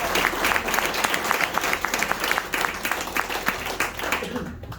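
An audience at a Greystones, Ireland, performance applauds the choir with loud, dense clapping that runs throughout and then thins out at the end.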